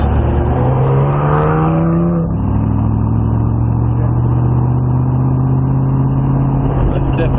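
An AC Cobra's engine roars and revs as it laps the TopGear track, loud and close throughout, with the pitch climbing and then shifting as the car changes gear, while people talk over it.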